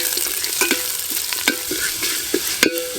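Chopped onion sizzling in hot oil tempered with cardamom, cinnamon, cloves and bay leaf for pulao, with a steady close fry and occasional stirring scrapes.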